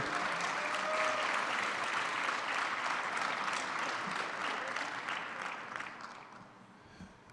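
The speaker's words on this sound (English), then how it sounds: "one last round of applause for John Hart." Audience applause at a community college student leadership summit in New Jersey, a dense, steady wash of clapping from a large crowd that holds strong for several seconds, then thins and fades out near the end.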